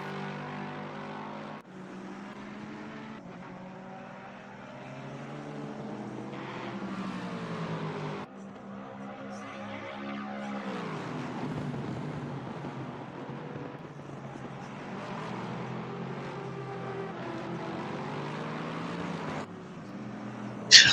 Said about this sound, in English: All you could hear was the engines.